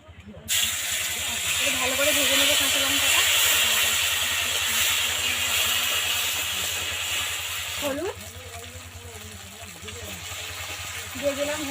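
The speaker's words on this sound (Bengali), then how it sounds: "গোটা জিরে দিয়ে দেবো তেলের মধ্যে দিয়ে দেবো কারি পাতা দুটো তিনটে দিয়ে দেবো কাঁচা লঙ্কা" Whole cumin, curry leaves and green chillies sizzle steadily in hot oil for a Bengali saipon fish curry, a loud continuous frying hiss that eases slightly partway through, with faint stirring.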